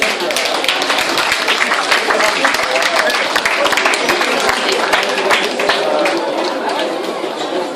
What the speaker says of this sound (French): Et on peut applaudir Sylvie